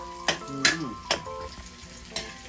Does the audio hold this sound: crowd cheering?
no